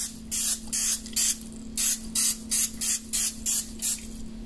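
Cooking spray hisses onto a biscuit-lined muffin pan in about ten short, evenly spaced bursts, close and loud, with a steady hum underneath and no talking.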